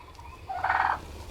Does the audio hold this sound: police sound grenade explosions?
no